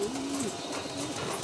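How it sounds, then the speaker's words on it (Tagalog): A courting pigeon cooing, a low soft throaty coo rising and falling close by over a steady outdoor background hum. "Si Major Pen nililigawan tong ibon natin na si Apple Check."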